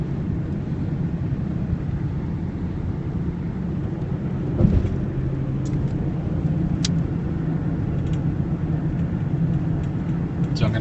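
A car driving through Manhattan, with a steady low engine hum and road rumble from inside the vehicle, a brief thump near the middle and a few faint clicks, under someone talking.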